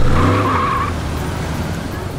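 A cartoon monster ice truck skids, a loud tire squeal at the start that fades into a rumbling engine noise, with a voice heard briefly over it.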